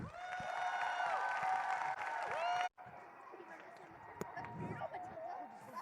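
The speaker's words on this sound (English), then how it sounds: "Give them a big clap." A school audience claps and cheers for students before a Matilda stage production, a busy wash of clapping, whoops and crowd noise that drops out abruptly midway, then returns quieter with chatter.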